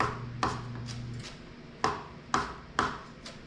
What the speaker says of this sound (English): now we're just chopping them up